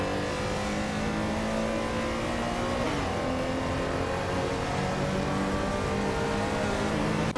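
A 1978 Greenwood Corvette GTX racing car in a video game, its engine droning loudly and steadily at high revs, with a brief pitch dip from a gear change partway through, no talking.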